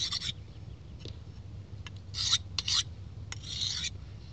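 A knife blade scrapes across a coarse sharpening abrasive in short rasping strokes, several separate passes close to the microphone over a low steady hum.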